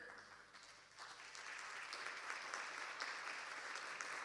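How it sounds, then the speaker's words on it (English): Sustained audience applause at a formal human rights gathering honoring a UN special rapporteur on freedom of expression, steady and moderately loud crowd clapping throughout with no talking. "Great applause for her."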